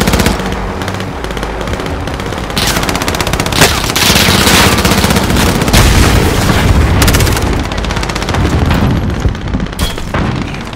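Dense, loud gunfire rattles almost nonstop in Call of Duty: Modern Warfare Warzone, with bursts of automatic fire and heavy booming impacts layered over each other for the whole stretch.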